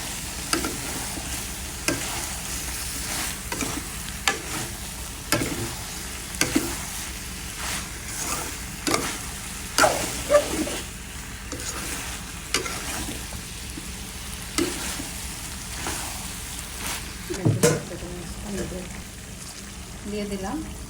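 Beans, potato, eggplant and radish sauté with dried fish in a pan, a soft steady sizzle broken by repeated scraping stirs of a spatula, with a voice briefly heard over the cooking.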